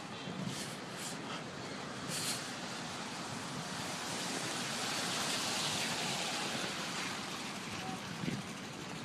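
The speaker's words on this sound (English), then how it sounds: "And it's raining like ain't shit." Rain falling outdoors on a street near a school, a dense continuous hiss that swells and eases slightly, with faint passing traffic underneath.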